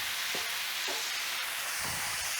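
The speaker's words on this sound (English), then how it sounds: "I say that as I try to stir it instead of fold it" Grated carrot, apple and pear are stirred into a simmering pan of homemade curry, giving a few soft scraping strokes over a steady sizzle.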